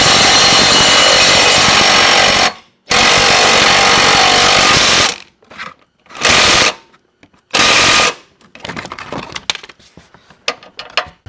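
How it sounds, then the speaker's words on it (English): An impact wrench loosens a bolt during power steering rack replacement on a 2003–2007 Honda Accord, with long loud rattling bursts separated by short pauses and then fainter metallic clicks and taps. "we're going to go ahead and take out this, loosen this bolt"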